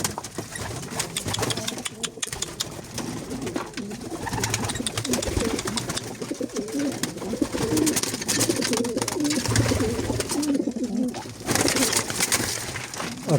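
Pigeons coo repeatedly at close range over a busy, rustling background, with occasional soft wing flutters.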